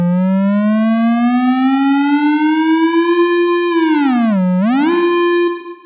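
Tonal riser synth effect made in Native Instruments Massive, a loud, bright harmonic tone sweeping steadily upward, then dipping and bending back up before cutting off, with no voices.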